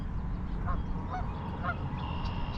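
Canada geese honk near a nesting island on open water, a few short calls repeating over steady background noise, moderately close.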